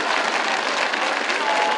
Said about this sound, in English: wow, what a big round of applause